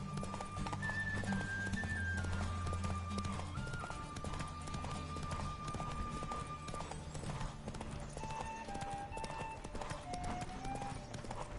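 Horse hooves galloping at speed in The Witcher video game, a steady, continuous clip-clop rhythm running the whole way under a layer of game sound, with faint voice-like tones mixed in.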